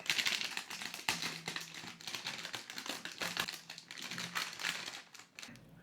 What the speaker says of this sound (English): we'll pull that open. Comes in this kind of foil package.